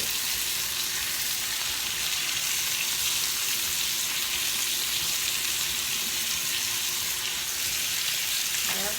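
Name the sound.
bacon frying in a pan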